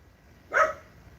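A pet dog named Camper lets out one short bark at a moderate distance, standing alone against a quiet room with a faint low hum.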